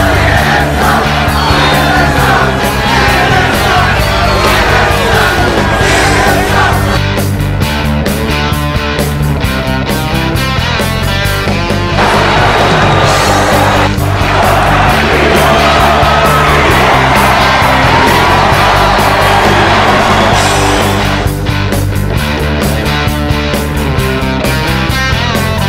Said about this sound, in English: you can hear there is a chorus of boos and other chants from this Trump crowd here in Tampa, Florida